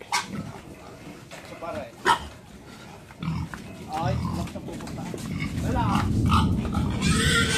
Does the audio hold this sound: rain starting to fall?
no